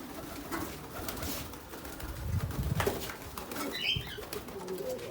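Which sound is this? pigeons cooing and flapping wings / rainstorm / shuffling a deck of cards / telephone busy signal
pigeons cooing and flapping wings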